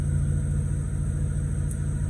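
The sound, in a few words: Renesis 13B rotary engine running, warmed up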